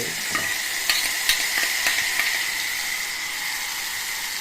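Hot oil tempering poured into tamarind paste for tamarind rice, bubbling and sizzling in a steady close hiss, with a few sharp metallic clicks of a spoon scattered through.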